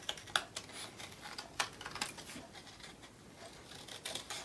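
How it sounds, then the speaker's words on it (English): Scissors snipping through paper along hand-drawn lines for a children's craft, a run of quiet, close crisp cuts with a few sharper clicks of the blades. "get your scissors and you cut round your drawn lines"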